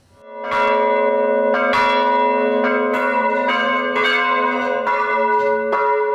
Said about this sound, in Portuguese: Ao meio-dia, os sinos das igrejas da região central soaram juntos